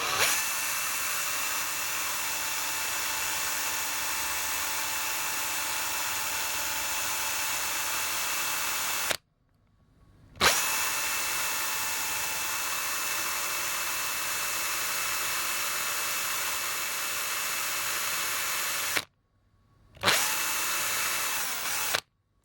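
A drill bit boring into a die-cast Tomica Nissan Fairlady Z 2008 1/57 scale model car gives a steady, high-pitched whirring whine close up, running for about nine seconds, then stopping briefly, then running again for another nine and a short final burst.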